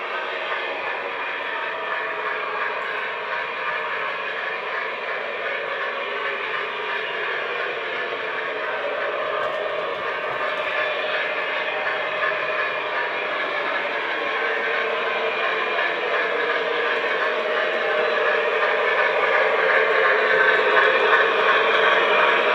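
Lionel Southern Railway model train engine running steadily around a home layout, a continuous mechanical whir and rumble that grows slightly louder as it nears, with no talking.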